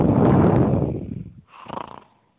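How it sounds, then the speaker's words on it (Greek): A loud, drawn-out snore effect from a character in a Greek children's story about a tin-can town: one long rumbling inhale, a short pause, then a softer second snort fading away. "ξαπλώνει και αρχίζει ένα ροχαλιτό που τράνταξε όλη την Τενεκεδούπολη"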